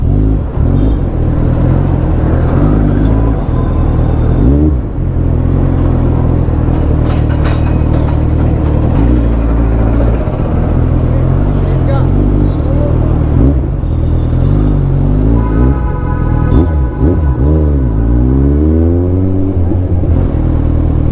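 A Kawasaki inline-four motorcycle rides through a town crossroads, its engine loud and close as a continuous drone, with rev swells rising and falling and one sharp climbing sweep near the end.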